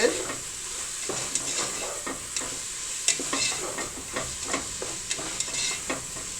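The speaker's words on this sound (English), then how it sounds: "Alright, now we'll add our garlic. Stir this in good." Garlic stirred into onions and bacon frying in a pot for sauerkraut soup, with a steady sizzle and repeated scraping and stirring strokes close by, and no voices.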